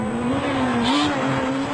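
A rally car races flat out through a gravel stage at the 2011 Hencom Autobody Rally in South Africa, its engine holding a loud, steady high-revving note that rises slightly as it passes close by.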